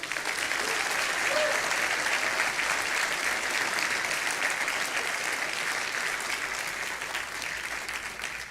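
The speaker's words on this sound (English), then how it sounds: "How about a round of applause for these folks?" Sustained audience applause fills a sheriff's office awards ceremony hall, a steady dense wash of clapping from many hands that holds loud throughout before tapering slightly at the end.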